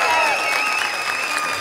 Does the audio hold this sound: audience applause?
yes